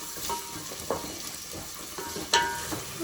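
Onions and green chillies frying in oil in a pan for a country chicken curry, a steady soft sizzle with a few stirring scrapes and clinks, heard close with no voices.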